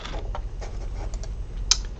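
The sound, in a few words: typing text on a computer keyboard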